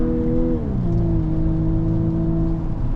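Volkswagen Atlas Peak Edition SUV engine in sport mode with paddle-shifted manual gearing, a steady in-cabin drone whose pitch drops as a gear changes, then holds an even hum.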